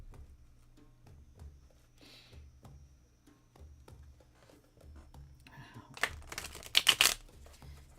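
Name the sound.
shuffling tarot cards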